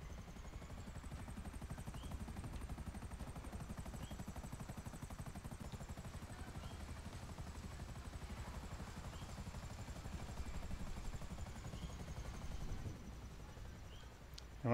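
Steady rotor chop of a helicopter in a video game, a constant dense drone held at even loudness throughout with a faint high whine above it, no voices.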